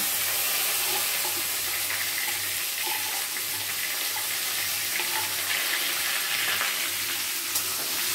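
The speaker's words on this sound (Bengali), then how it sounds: "এবার পেঁয়াজগুলো আমরা দিয়ে দেব ভাজার জন্য।" Chopped onions fry in a pan after dried chili tempering, a dense continuous sizzle with faint low clinks beneath, steady and close without any voices.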